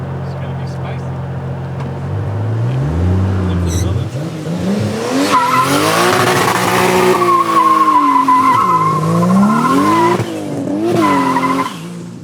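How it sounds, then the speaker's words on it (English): Car with 275-width front tires doing a brake stand, engine revving and rising while the tires squeal loudly and continuously, pitch sweeping up and down as the throttle varies. "I can try to like brake stand a little more"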